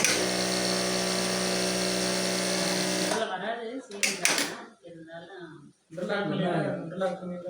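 A Singer sewing machine stitches through eight layers of cloth with a loud, steady electric whir for about three seconds, then stops as a person talks close by.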